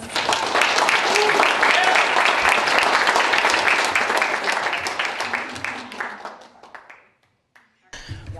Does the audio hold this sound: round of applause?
yes